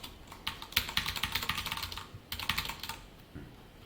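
Java code is typed on a computer keyboard in quick bursts of close clicking keystrokes, with a short pause before a second run.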